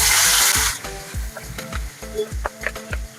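Chopped onion dropped into hot oil with tempered spices, a loud close sizzle that bursts up at first and then settles, with rhythmic scraping and stirring knocks in the pan.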